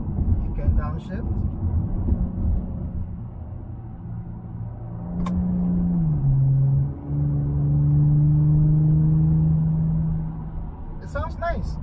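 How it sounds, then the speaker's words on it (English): An Audi car engine idles with a low, steady rumble, then its hum rises and shifts pitch as it revs; a voice briefly speaks at the start. "It sounds nice. I mean, it's a German car"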